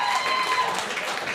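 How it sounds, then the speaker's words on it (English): Applause from a studio audience at a comedy game show, a dense burst of clapping that runs steadily for the whole moment with light crowd murmur mixed in. "administer your claps."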